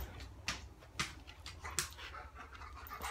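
A dog pants and lets out short breathy whimpers in quick bursts, close by and fairly soft, with no talk over it.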